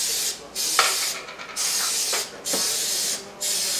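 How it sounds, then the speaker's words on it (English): Cooking spray is sprayed into a popover pan in four short hissing bursts, each about a second long with brief gaps between them, close and clear. "you want to spray them fairly generous"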